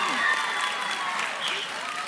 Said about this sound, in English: the loudest applause I'll get from this platform all year was in that moment